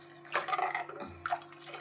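Water poured into a thin egg curry (egg saaru) cooking in a pan, a brief splashing pour with a second short trickle, close and fairly soft, with no talking.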